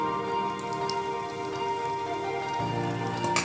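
Chhana balls for rosmalai sizzle steadily in hot oil in a pan, a dense continuous crackle like rain, close and fairly loud with a slight shift in tone near the end.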